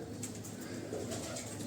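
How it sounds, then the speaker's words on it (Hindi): Domestic pigeons kept on a rooftop loft coo steadily in a soft, continuous murmur, close by and moderately loud, with no talking. "ये देखें माशाल्लाह, ये हैं टोटल कबूतर जो कि वहाँ पे पक्के थे।"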